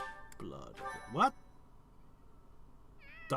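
A cat meows in the video game Fire Emblem Three Houses, a few short rising meows clustered together, then a pause and another meow at the end, fairly close and clear.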